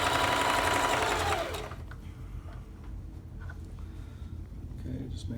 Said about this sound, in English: we're going to top stitch over that